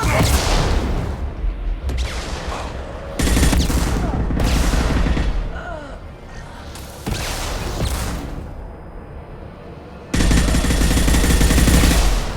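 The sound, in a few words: heavy weapon gunfire in Mass Effect 2 video game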